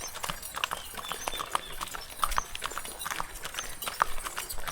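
A working horse hauls a cart loaded with coconuts, its hooves clip-clopping in a steady walking rhythm, moderately distant and fairly quiet, with no talking.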